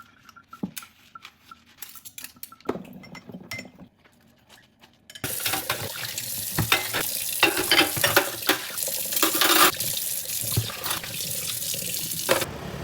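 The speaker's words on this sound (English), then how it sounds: "Before leaving, I also wash the dishes from last night." Dishes being washed at a kitchen sink: a few quiet clinks and soft handling sounds at first, then the tap turns on and loud running water streams steadily with scattered dish knocks for the rest.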